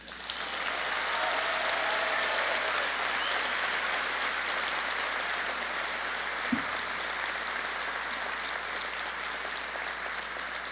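A funeral congregation applauding, a broad sustained roar of many hands clapping that swells in and holds steady for several seconds, one louder thump partway through.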